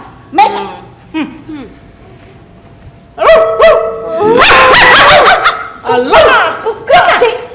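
A person mimics a puppy with a series of high, yappy barks and whimpers, several short bursts in a row, with other voices chiming in close by.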